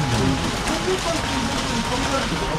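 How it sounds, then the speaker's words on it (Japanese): Heavy rain pours steadily outside a house, a dense, even hiss with no pauses, with faint voices mixed in beneath it. "めっちゃ雨降ってきた"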